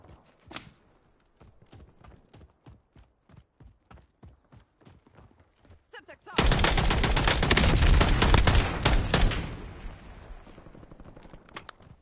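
Call of Duty Warzone gunfire: a run of evenly spaced single shots cracks out, then a dense, loud burst of sustained automatic fire takes over for several seconds before fading.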